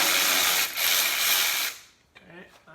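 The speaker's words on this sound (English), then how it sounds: "So we got our 10 millimeter here on the cordless ratchet. Let's loosen up that." A cordless ratchet loosens a 10 mm bolt on a Mazda Miata MX-5, giving a close, loud whirring burst of under two seconds with a brief dip midway, followed by quieter sounds and some soft talk.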